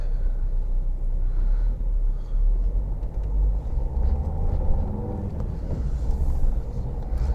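A car creeps along in a queue of traffic in Canterbury, with a low, steady engine rumble and road noise heard from inside, continuous and fairly loud, with no voices.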